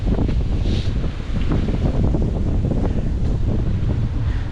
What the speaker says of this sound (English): Ooh, very windy right about here.